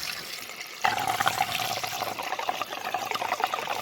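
Water pours steadily through a funnel stuck in a filler hole of a Jaguar car, a close, continuous splashing gush that starts abruptly and runs without a break.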